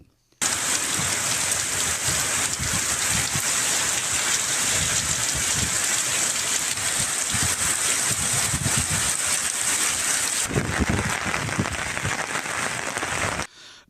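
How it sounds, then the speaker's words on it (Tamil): Heavy rain driven by wind pours down steadily in Tamil Nadu, a dense, loud, continuous hiss and patter that briefly softens near the end before cutting off. "காற்றுடன் சுமார் அரை மணி நேரத்துக்கு மேலாக கனமழை பெய்தது"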